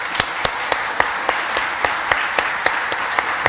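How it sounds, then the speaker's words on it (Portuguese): Church congregation clapping in praise to Jesus, a steady dense applause with regular louder rhythmic claps roughly every quarter second, moderately loud with little talk. "Vamos louvar o nome de Jesus agora com a salva de palmas."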